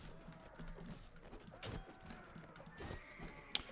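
Horse hooves clopping and a horse neighing in the medieval combat game Mount & Blade: Warband, with scattered battle noise around them and a sharp high click near the end.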